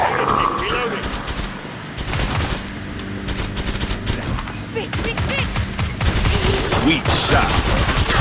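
Rapid automatic gunfire from the Killing Floor 2 video game rattles in dense bursts over game effects, and a voice speaks over the shooting.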